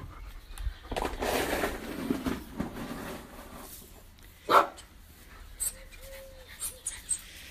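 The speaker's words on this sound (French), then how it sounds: "Pourquoi tu aboies" A pet dog barking indoors: a sharp bark rises above background rustle and scattered household noise, while someone talks at times around it.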